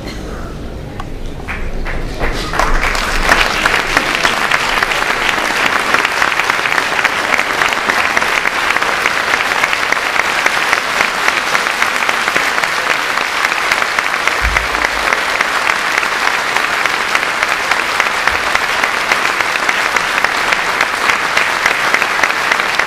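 Sustained, loud audience applause fills a hall as a performer walks onto the stage, swelling after a quieter start and continuing steadily throughout without speech.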